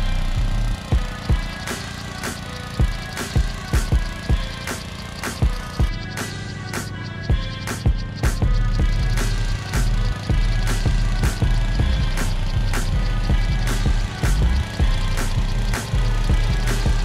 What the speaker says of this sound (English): I'll have Mike start seeding, and then we'll get to mowing